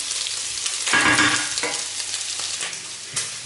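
Frozen vegetables fry in a little oil in a pan, a close, crackling sizzle with a burst of louder spitting and stirring partway through, then settling back to a steady hiss.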